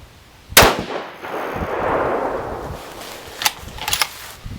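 A 6.5 PRC rifle firing 140gr ELD-M loads with N560 powder lets off one loud, sharp shot that rings and decays over about a second. A few quieter clicks and knocks follow, likely bolt handling.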